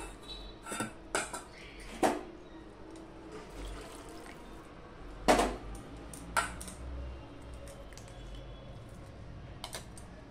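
Chopped vegetables are mixed together by hand in a bowl, with scattered clinks, knocks and scrapes at irregular intervals over a quiet background, a few louder clatters standing out.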